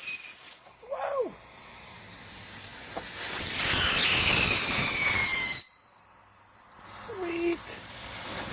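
Black Cat Desert Racers novelty fireworks give a loud, sharp hiss with a high whistling tone for about two seconds, then cut off abruptly. Excited voices are heard briefly before and after.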